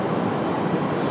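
A fixed-wing airliner lands at Raleigh-Durham International Airport, its engines giving a steady broadband roar that holds close and loud through the short stretch without a break.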